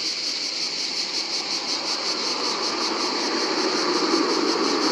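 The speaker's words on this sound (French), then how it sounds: "quand tu roules, c'est impressionnant le bruit. On dirait un camion qui passe." Continuous loud roar of a Hunter Quad M5 high-powered electric scooter while riding, a dense, steady rushing drone with a faint pulsing whine above it, like a truck going by, with no talking.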